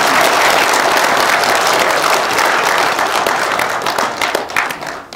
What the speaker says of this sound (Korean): 한 번 더 박수를 보내주십시오